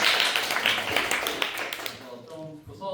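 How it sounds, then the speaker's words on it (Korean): A group claps for a newly introduced team leader at a department orientation, a brisk, dense patter of hands with a voice talking over it before it fades out. "일단 박수 한 번씩 해주고"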